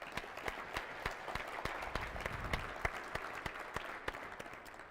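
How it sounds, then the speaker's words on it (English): Audience at a SAINTCON security conference closing session applauding for Nathan Dougal, a faint, distant wash of many hands with a few sharper claps standing out, steady throughout. "let's give him a round of applause"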